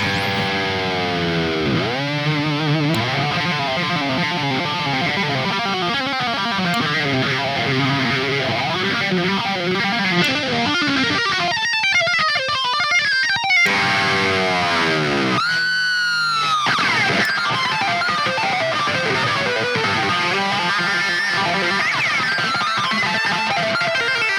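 Electric guitar through the Gojira X amp plugin dialed toward a classic rock solo tone with echo effects, playing a loud, heavily distorted solo of fast tapped runs, dive-bomb swoops and sustained wailing notes.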